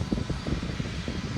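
A Sikorsky S-92 helicopter engine runs loudly as a dense, steady roar with a rhythmic low thumping of the turning rotors, close and continuous with no other sounds.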